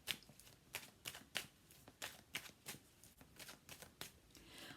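Tarot cards are shuffled by hand in a steady run of crisp, rhythmic slaps and riffles, close and fairly quiet, with no talking.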